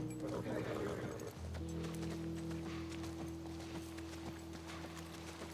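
Rapid hoofbeats of a galloping horse in The Last of Us video game, steady and close, mixed with a low engine-like drone and a brief snort near the start.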